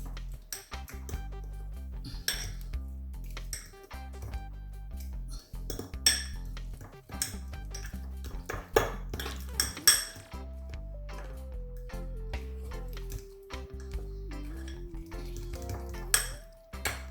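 Ingredients are mixed in a bowl while preparing a smoked turkey, giving repeated light clinks and scrapes of a utensil against the dish in an irregular rhythm, close and moderately loud, with a steady tone running faintly beneath.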